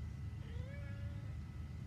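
A single faint, drawn-out meow rising and falling over a low steady background rumble.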